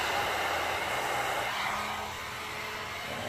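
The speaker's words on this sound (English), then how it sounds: "my blow dryer set on cool because I don't want to melt my braids" Steady close airflow from a blow dryer on its cool setting drying braided hair, a continuous broadband rush that eases slightly partway through, with no talking.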